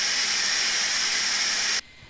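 Steady, loud hiss of steam venting from an Instant Pot Duo Evo Plus pressure cooker's diffuse release, then cutting off abruptly near the end.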